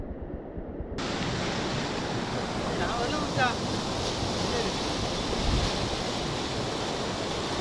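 Continuous roar of rushing river water, broad and steady, loud and close, with some wind buffeting the microphone.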